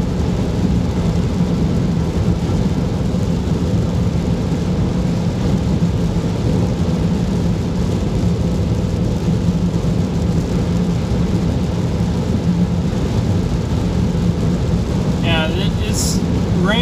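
Rain washes steadily over a car driving on a multi-lane highway at night, a dense continuous hiss layered over low road and cabin rumble, unbroken throughout, with a brief faint tone near the end.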